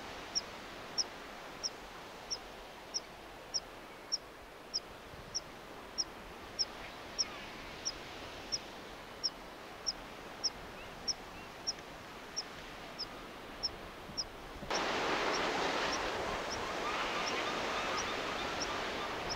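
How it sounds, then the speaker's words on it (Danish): Birds call at the edge of Thorsminde beach at sunset, with a regular series of short, high chirps repeating about twice a second over faint surf hiss that swells louder near the end. "Der er fantastisk fugleliv hernede ved lige kanten af stranden."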